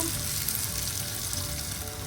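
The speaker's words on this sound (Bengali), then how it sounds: "পেঁয়াজটা ভাজা ভাজা হয়ে গেছে" Onion frying in a pan hisses in a brief, even, close-up sizzle with a low crackle underneath, steady and unbroken.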